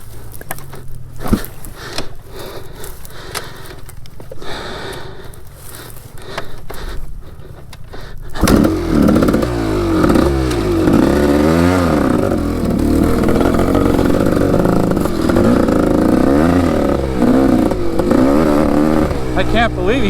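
A beater motorcycle engine catches after about eight seconds and runs steadily, rough revving filling the rest of the clip, with muffled voices and handling noise under it beforehand.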